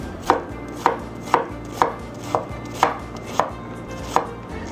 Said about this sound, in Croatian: Zatim sitno nasjeckamo luk.